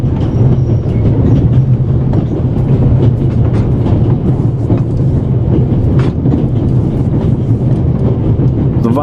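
The Orient Express rolls along in the game The Raven Remastered, a loud, steady rumble of wheels on track with faint rhythmic clacks throughout and no voices.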